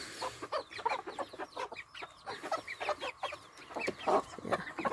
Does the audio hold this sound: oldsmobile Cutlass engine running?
no